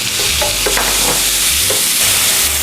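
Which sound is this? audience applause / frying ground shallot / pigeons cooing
frying ground shallot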